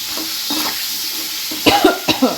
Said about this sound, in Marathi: ते आपण ह्याच्यात ॲड करून घेऊया कट केलेले आता मिक्स करूया